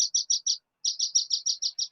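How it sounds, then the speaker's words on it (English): Small bird calling loudly at a fishing harbour, a rapid series of sharp, high chirps in two bursts separated by a short pause, close and clear with no voices. "I've got a very loud bird or seagull going off at the moment."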